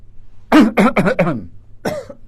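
Several forceful deliberate coughs from the diaphragm in a quick burst of four, followed by one more after a short pause, close and loud with no talking.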